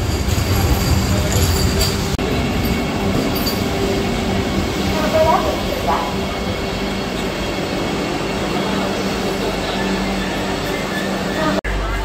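A Vande Bharat Express train passes on the Indian rail line near Chiplun, a loud, steady rushing rumble that holds for the whole stretch, heard from aboard a Janshatabdi Express.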